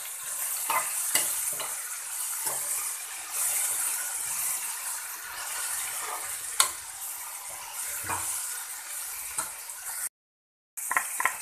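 Tomatoes and mint being stirred and fried in a pan for a sprouted methi tomato bath, with a soft, continuous sizzle and scattered light scrapes and taps of a spoon, close but fairly quiet, ending in a brief silence.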